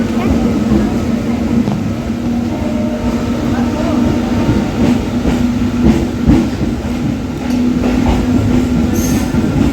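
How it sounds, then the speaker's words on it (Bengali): A departing train rumbles loudly and steadily nearby, wheels clattering on the rails, with faint voices in the background. "ট্রেন ছেড়ে দিয়েছে"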